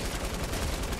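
Dense, rapid gunfire from the video game Fortnite fills the short moment in a steady, unbroken burst with no talking.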